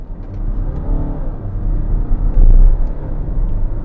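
A BMW 220d diesel car accelerates hard from standstill in sport mode, its engine rumbling low and loud from inside the cabin and swelling as it pulls, with no talking.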